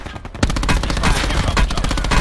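Rapid gunfire rattles nonstop in a shooter video game, loud, close bursts of automatic fire packed tightly together after a brief quieter lead-in.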